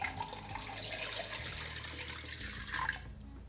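Water pours steadily into a pressure cooker fitted with a ring, ready for boiling pav bhaji vegetables: a continuous close splashing rush that grows slightly brighter near the end, with no talk.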